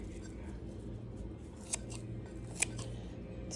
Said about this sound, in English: I just kind of grab a hold and I kind of just snip.